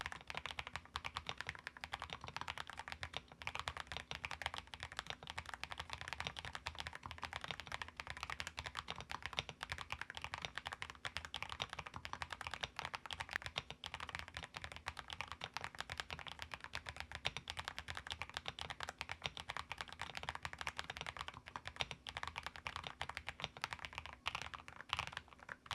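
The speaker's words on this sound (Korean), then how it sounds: "PL87A는 어떤 소리가 날지 바로 체크 들어가 보도록 하겠습니다." Steady, rapid clacking of a PL87A mechanical keyboard being typed on continuously, close and crisp, with no voices.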